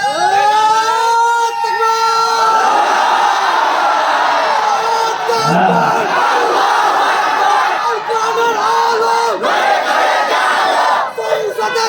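A large crowd at a rally shouts takbir in unison, loud sustained massed voices chanting and cheering close by, filling the whole stretch with roaring collective yells.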